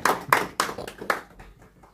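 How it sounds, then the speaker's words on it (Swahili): A few quick handclaps at a CCM branch meeting in London during a visit by retired Tanzanian prime minister Pinda, four sharp claps in a row that thin out into faint scattered taps. "Naomba mjipigie na makofi wenyewe."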